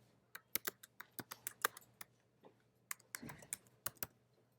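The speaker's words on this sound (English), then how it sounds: "I can start to type." Quiet, irregular keystrokes on a computer keyboard, a run of light individual clicks with brief pauses between short bursts.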